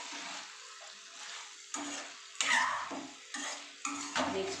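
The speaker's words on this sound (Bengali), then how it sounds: "আর একবার ভালো করে মিক্স করে নিই" Potato and cauliflower curry is stirred in a pan, with a series of close, rough scraping strokes, each a short burst, over a soft background sizzle.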